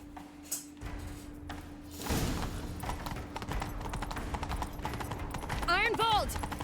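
Horse hooves clip-clopping in The Witcher 3 during a chase, a rhythmic thudding gait under music and game effects, with voices talking over it.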